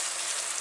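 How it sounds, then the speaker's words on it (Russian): Onion frying in oil in a pan, a steady close sizzle with a fine crackle that holds without a break for under a second. "Здесь у меня обжаривается лук."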